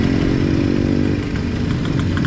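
A motorcycle engine running close by, a loud steady idle with a rough rhythmic clatter and a slight dip in level partway through, with no voices.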